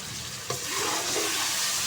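Chicken cooking in masala in a pot, a loud, dense sizzle with a brief stirring clatter partway through, steady and close with no voices.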